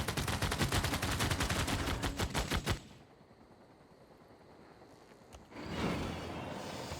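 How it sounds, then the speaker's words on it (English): A machine gun army fires in Civilization VI: dense, rapid automatic gunfire rattles loudly for nearly three seconds, then a quiet lull, before another burst of rumbling battle noise swells near the end. "so this machine gun army I'm going to put over here"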